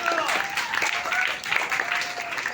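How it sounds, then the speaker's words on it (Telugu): An audience at a family blessing gathering claps together in a steady, lively patter. A voice carries on over the clapping. "చప్పట్లు కొడదాం అందరం గట్టిగా."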